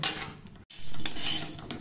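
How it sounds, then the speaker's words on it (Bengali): Cashews and vermicelli being stirred in ghee in a metal pan for sweet vermicelli payesh, with a short burst of spoon scraping and clinking, a brief pause, then more stirring over a light sizzle. "আমি সেই ঘিয়ের সঙ্গে সিমাইয়ের সঙ্গে কাজুগুলো একটু নাড়াচাড়া করে নেব।"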